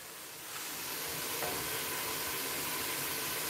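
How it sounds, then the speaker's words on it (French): Food simmers and sizzles in a pan as a steady, close crackling hiss that swells after a brief quieter start and holds evenly, with no talk over it. "Ça mijote. Allez, je vous fais un petit ASMR."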